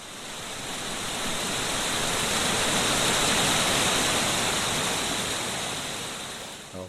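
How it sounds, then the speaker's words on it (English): Niagara Falls waterfall as a continuous roaring wash of broadband noise, swelling gently and fading near the end, with no voices. "one that I recorded of the Niagara Falls"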